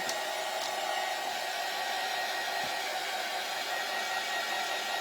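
Hair dryer blowing steadily on a craft door hanger made for a summer daisy theme, a continuous loud, close whoosh that holds constant for the whole stretch with no talking.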